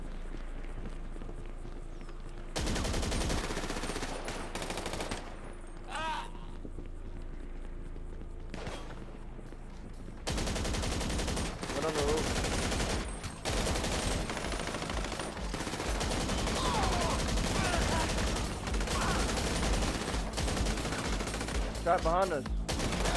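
Rapid gunfire bursts crackle through a Grand Theft Auto V shootout, loud broadband shots and automatic volleys repeating almost without pause, with a brief spoken line over the din.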